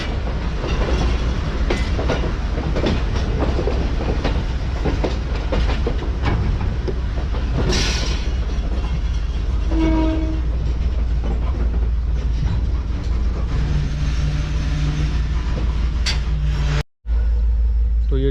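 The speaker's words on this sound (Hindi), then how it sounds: "ट्रेन हमारी प्लेटफॉर्म लाइन पर आ रही है इस वक्त।" A passenger train, the Mohen Jo Daro service in Sindh, pulls in along the platform line with a loud, continuous rumble and clatter of wheels on rails, recorded close from on board.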